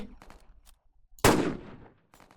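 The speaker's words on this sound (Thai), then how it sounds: "มันน่าจะเป็น AW ปลอมครับน่าจะเป็นปืนอัดลมอ่ะนะ" A single sharp AW sniper rifle shot in a Roblox game, loud and close, with a long decaying tail, between faint scattered game noises.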